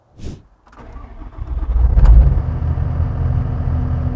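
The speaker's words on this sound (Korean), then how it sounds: "시동을 걸고 시운전도 해보겠습니다." A 2015 Doosan DX140W wheeled excavator's diesel engine cranks briefly, then catches and settles into a loud, steady, rumbling idle close by.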